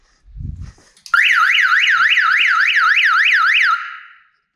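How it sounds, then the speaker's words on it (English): A 1986 Mustang GT's car alarm blares a loud warbling siren that rises and falls rapidly for about three seconds, then cuts out, after a brief low thump and a faint clunk. "Oh, that alarm just will not die."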